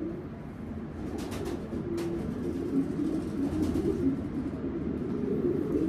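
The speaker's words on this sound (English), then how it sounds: "Awesome gift bird from Sam." Racing pigeon cooing in a loft, a steady series of low, throaty coos running continuously through the whole stretch, fairly close, with faint background noise.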